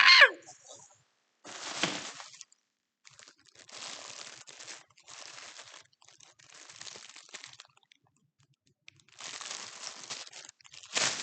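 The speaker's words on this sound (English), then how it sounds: "Sorry for the crinkling." Plastic packaging from a purse crinkles in several bursts near the microphone, with short pauses and quiet gaps between rustling handfuls, loud and close.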